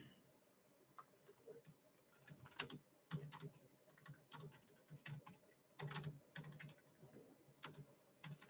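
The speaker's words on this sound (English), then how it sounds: "I might as well just use this keyboard here" Computer keyboard typing in a room: irregular bursts of clicky keystrokes, fairly close and moderately quiet, with low background chatter and speech-like murmur underneath.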